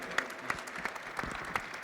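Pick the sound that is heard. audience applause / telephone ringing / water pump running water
audience applause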